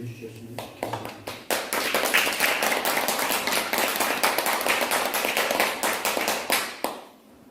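A church congregation applauds its youth group with a sustained burst of dense clapping that starts after a few scattered claps, holds steady for several seconds, then tapers off.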